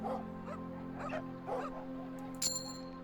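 Sled dogs in the polar survival game The Pale Beyond whimper and yip in a few short, soft bursts over a steady low hum, ending with a brief bright chime.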